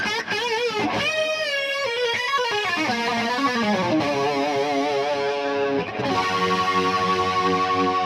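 An electric guitar runs through a chorus effect on a Mooer GE Labs patch, playing sustained, shimmering chords and sliding notes with a slightly distorted, wavering tone that rings on continuously.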